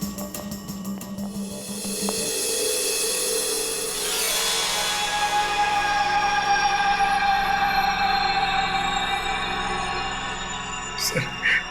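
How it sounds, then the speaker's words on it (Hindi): An ambulance siren wails steadily at a distance, holding a rising and falling tone over a low rumble of traffic for most of the stretch. "एम्बुलेंस आ गई"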